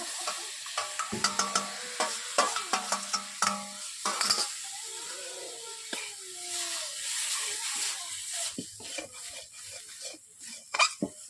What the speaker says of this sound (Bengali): মশলাগুলোকে আমি 5 মিনিট কষিয়ে নিচ্ছি